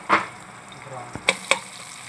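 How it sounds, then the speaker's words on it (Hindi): Onion frying in two spoonfuls of oil for chicken samosa filling, a soft low sizzle broken by a few sharp clinks of stirring in the pan. "और इसमें 2 चम्मच बड़े ऑयल डाले हैं, और इसमें 1 बड़ा प्याज ऐड करने लगे हैं।"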